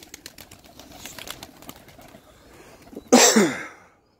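Performance pigeons being trained: faint bird sounds give way to a sudden loud, close burst of pigeon noise near the end, then quiet.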